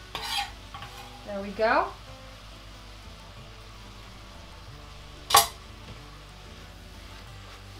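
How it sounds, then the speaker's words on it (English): A spoon stirs leek and potato soup with celery in a pot, giving a few scraping, clinking strokes and one sharp knock against the side over a soft background hiss, while a person briefly talks. "Give it a nice stir."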